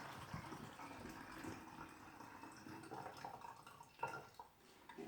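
Cold water mixed with bleach pours steadily through a funnel into a container, a continuous close liquid rush with small drips and splashes, no talk.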